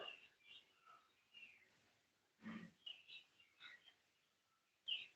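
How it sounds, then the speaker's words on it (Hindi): Faint, scattered bird chirps and short calls in a quiet outdoor setting, arriving in irregular bursts. "चिड़िया की आवाज आ रही।"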